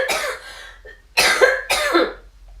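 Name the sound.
cough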